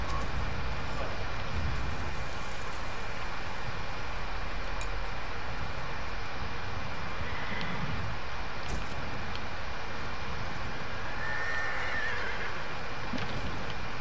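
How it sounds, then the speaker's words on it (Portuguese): Several horses in the video game Ghost of Tsushima neigh and whinny over a dense, steady game soundscape, with a drawn-out whinny standing out near the end. "Vários cavalos diferentes."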